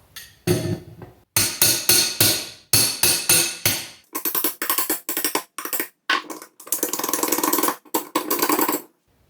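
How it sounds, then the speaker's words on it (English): Sheet metal flanges are hammered onto a cyclone separator cone for a wood gasifier, loud ringing metallic blows in quick bursts and rapid strings, close by with no speech. "So I'm just going to whack these flanges on."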